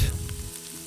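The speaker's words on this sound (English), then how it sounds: "Then we stir it and cook it until the vegetables are well browned." Vegetables with sprigs of rosemary and thyme and a bay leaf sizzle loudly in a pot for short rib ragu, a bright frying hiss over a brief low rumble of stirring.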